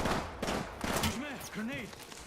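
Gunfire in Apex Legends, a quick cluster of sharp shots at the start followed by fainter pops, with a voice talking and synthetic chirping tones in the mix.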